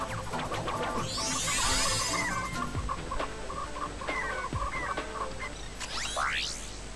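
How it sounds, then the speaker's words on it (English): Chickens cluck and squawk in the Ratchet and Clank video game, likely from a morph weapon that turns enemies into chickens. Several overlapping bird calls and rising chirps fill the scene over steady game sounds, with no talking. "Chickens!"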